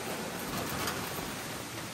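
Early-morning rain falls steadily in windy, stormy weather, a soft continuous hiss with no voices.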